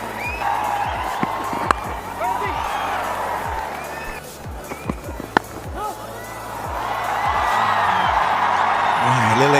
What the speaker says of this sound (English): A little excitement around the crowd.